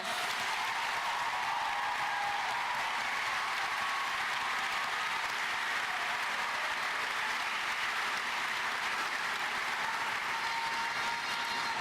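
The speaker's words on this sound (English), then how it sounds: "Could we please give a big round of applause for the donors of the Kalamazoo Promise?" Graduation ceremony audience giving a long round of applause for donors, a dense, sustained roar of many clapping hands at steady loudness throughout, with faint crowd murmur underneath.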